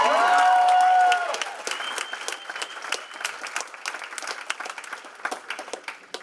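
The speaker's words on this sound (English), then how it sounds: "Let's give her a round of applause." An audience at a Boys & Girls Club annual gala breaks into applause after a sustained tone fades, with dense clapping that thins into scattered claps and a few cheers.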